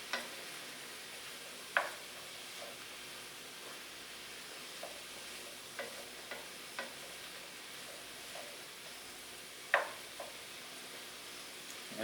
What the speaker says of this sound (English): You kind of feel the difference when you're just dragging your spatula through